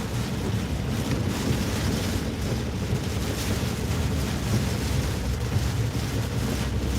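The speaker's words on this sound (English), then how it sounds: "it is pouring down out here" Heavy rain pouring down outdoors, a steady, dense broadband wash that stays loud and unbroken throughout, with some wind-like rumble underneath and no voices.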